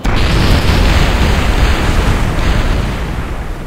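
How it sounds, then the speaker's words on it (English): A craft blows up in Kerbal Space Program with a loud, dense roaring blast that rumbles on for several seconds before slowly fading. "That was a pretty explosion, wasn't it?"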